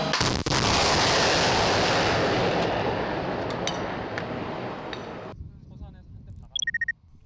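A military weapon fires its fifth round during a Korean armed forces live-fire exercise, a heavy booming blast followed by a long rumbling roar that slowly fades, then a few short electronic beeps.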